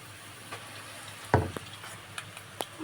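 A spoon scrapes and knocks through a potato fry in a pan with sparse sharp clinks and scrapes over a faint sizzle, one louder scrape standing out midway.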